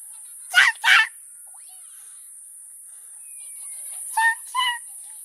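A four-year-old child imitates a chicken with two pairs of short squawking calls, the first pair louder, over a steady high hiss.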